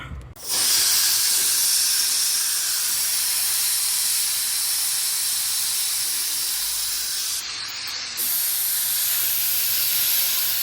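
Steam hisses loudly and continuously from a pressure cooker as it is opened, a strong broad rush starting abruptly and holding steady close by, with a brief dip near the end.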